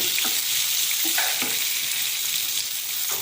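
Vegetables sauté in a hot pan with a loud, continuous bright sizzle and occasional soft stirring scrapes, close up and with no voices.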